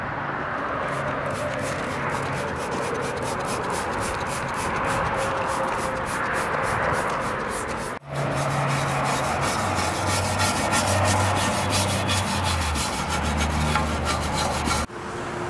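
A greasy bellhousing is scrubbed with soap after a degreaser soak, giving rapid, continuous rasping brush strokes close by, with a short pause and a change of stroke partway through.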